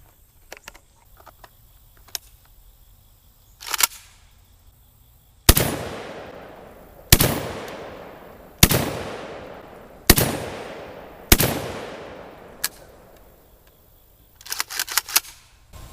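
Five loud, sharp 12-gauge shotgun blasts from a JTS M12AK firing Winchester promo loads of 1 1/8 ounce 7.5 shot, spaced about 1.5 seconds apart, each with a decaying outdoor echo, framed by faint handling clicks and rattles.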